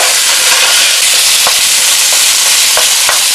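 Premium ground beef fries in a pan with a loud, dense, continuous sizzle and occasional faint pops, close and steady with no voices.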